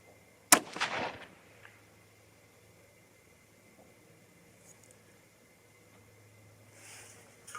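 A single sharp rifle shot from a Seekins Precision Havak HIT at an outdoor range, loud and close, with a rolling echo that fades into quiet wind noise.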